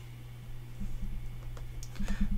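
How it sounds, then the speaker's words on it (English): Fingers tap text on an iPad's on-screen keyboard, giving soft, quick, irregular taps close by that grow denser toward the end over a low steady hum. "double tap to bring up the keyboard"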